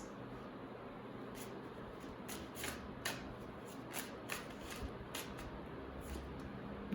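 Tarot cards are shuffled and picked by hand, giving a close, steady run of soft papery riffles and crisp flicks that repeat in quick bursts with no one talking.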